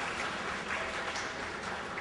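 An audience at a stellar astrology society's anniversary function applauds the chef with a short burst of fairly faint, even clapping.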